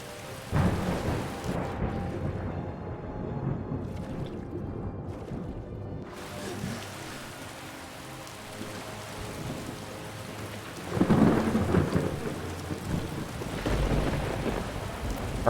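A thunderstorm in the video game Skyrim: steady rain hisses throughout while heavy thunder rumbles and cracks near the start and again loudly toward the end.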